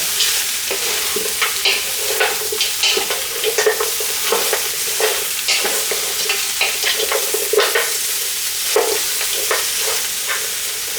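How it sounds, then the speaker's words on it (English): Onions stir-fry in a wok under a loud, steady sizzle, with frequent rhythmic scrapes and taps of a spatula tossing them, close and with no talking. "we can also add in our onions here. Stir fry"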